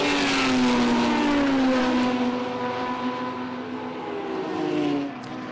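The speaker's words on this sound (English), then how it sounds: "There's a few interesting moments for a few race cars going through that section." Historic over-2-litre touring race cars at The Bend Classic race on track: a loud, close engine note sweeps past with a falling pitch, then fades away as the car moves off, ending in a brief drop to quieter background.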